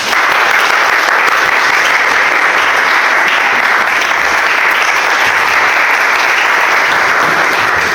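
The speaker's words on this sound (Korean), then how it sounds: "우리 박수로 환영하겠습니다" Loud sustained applause from a worship gathering welcoming a guest speaker, a dense even roar of many hands clapping with no break throughout.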